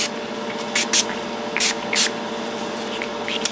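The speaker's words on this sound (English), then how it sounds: "So I'm just spraying randomly." Several short hissing bursts of shimmer spray onto a mixed media canvas, a few quick pumps in irregular succession, over a faint steady background hum.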